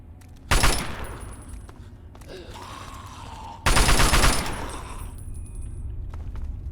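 A gun in Fallout 3 fires two loud, dense bursts of rapid shots, each roughly a second long, with a clanking mechanical rattle between them and a ringing tail after.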